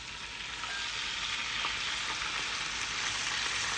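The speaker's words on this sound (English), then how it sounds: "And now I'm going to add the wine." Wine poured into a hot pan of spicy clam sauce, a soft broad hiss and crackle of sizzling liquid that rises slightly after the first half-second and then holds steady, quiet and close.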